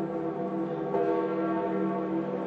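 Church bells toll steadily and loudly, their rich overlapping ring sustained without pause, at St Peter's Basilica during a papal funeral ceremony.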